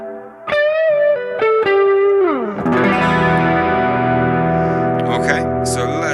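Electric guitar notes ring out, then sustained strummed chords shimmer with a wavering chorus from a Roland JC-120 amp and a splashy spring reverb tail, loud and continuous.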